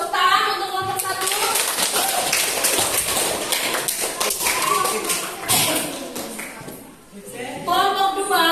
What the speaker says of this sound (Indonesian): Mangga tepuk tangan untuk kelompok 1.